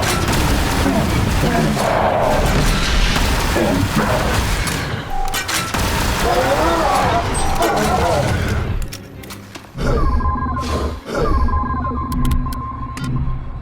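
Artillery strike explosions in The Bureau: XCOM Declassified pound in a dense, loud barrage of booms and gunfire with shouted voices, then thin out near the end into scattered hits over a humming tone.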